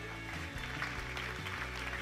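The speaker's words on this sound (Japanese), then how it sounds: "今一度盛大な拍手をお願いいたし ます。" An audience at a conference closing session applauds, a fairly quiet, continuous patter of clapping over a steady low hum, with no clear voices.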